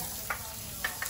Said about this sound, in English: we're gonna add the onions first.